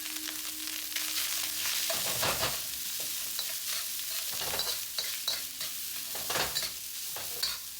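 Leftover rice sizzles in a hot, smoking pan for fried rice. A steady, close frying hiss runs throughout, with scraping stirring strokes breaking through it repeatedly.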